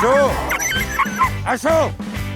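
Several Greenlandic sled dogs yip, bark and whine close by in quick overlapping bursts on the Arctic Circle Trail in Greenland, with a voice speaking over them.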